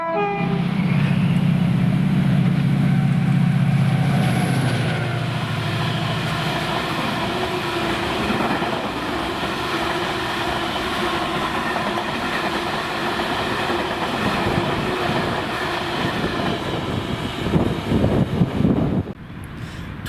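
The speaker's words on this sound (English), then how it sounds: "DRS Class 68 action on engineers on 6K02, 1330 Elderslie to Carlisle" DRS Class 68 diesel locomotive 68018 hauling an engineers train through Howwood, Scotland, loud and close: a horn blast at the start, then a sustained engine roar and rolling wagon rumble with heavier clanks near the end.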